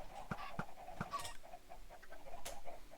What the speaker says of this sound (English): I got a baby chicken.